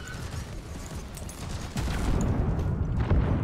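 Explosions in the video game Deep Rock Galactic rumble and crackle in a dense burst, with a heavier low boom kicking in midway and staying loud to the end.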